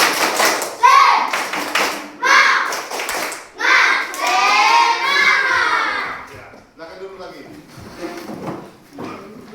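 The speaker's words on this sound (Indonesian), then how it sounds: "Ice breakingnya tepuk semangat ya." Classroom children do a rhythmic clapping ice-breaker, with sharp hand claps in short bursts mixed with kids chanting and shouting together, followed by quieter chatter in the room.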